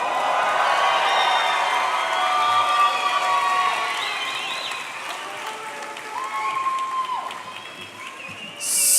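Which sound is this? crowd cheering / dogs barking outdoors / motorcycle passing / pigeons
crowd cheering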